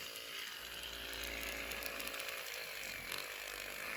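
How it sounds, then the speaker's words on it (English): A Pedi Perfect electronic nail file buzzes continuously as it sands a fingernail, a steady close motorized whine with slight fluctuations in pitch and no voices. "I think I'm sanding my nail a little bit too much by doing that"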